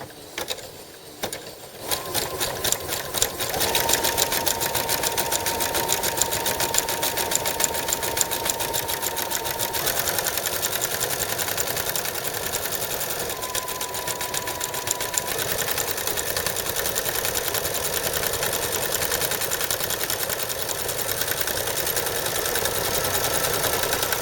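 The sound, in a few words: sewing machine sewing a zigzag stitch over threads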